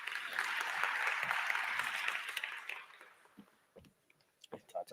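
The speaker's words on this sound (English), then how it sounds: "Would you like to give him a round of applause?" A conference audience at an urbanisation forum in South Africa claps in a dense, fairly loud burst of applause that fades out after about three seconds, followed by a few scattered sounds and faint voices.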